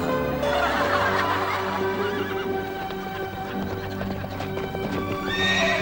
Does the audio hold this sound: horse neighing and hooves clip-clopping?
yes